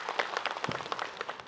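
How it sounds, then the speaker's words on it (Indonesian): A studio congregation (jamaah) at an Islamic talk show applauds in a short, busy burst of clapping that lasts about a second and a half, with no voices. "Boleh tepuk tangannya jamaah"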